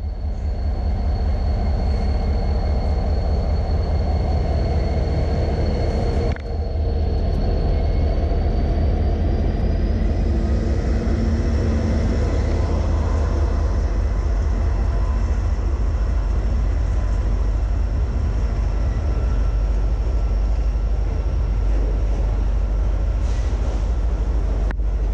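A train rumbles past close to a creek, a loud continuous roll of rail wagons with a steady high whine, carrying on for the whole stretch with no talk.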